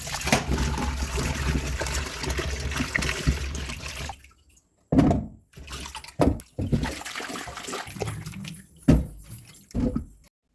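Chopped taro pieces being washed in water, with sloshing and trickling of liquid for the first several seconds, then separate splashes and drips after a short pause.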